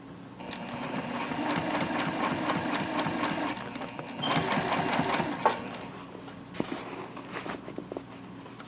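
A sewing machine runs steadily, stitching a zip-top tote bag with a continuous close whirring chatter, pausing briefly and then resuming in shorter bursts, with light handling clicks near the end.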